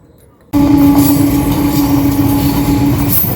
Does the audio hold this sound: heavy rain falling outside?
no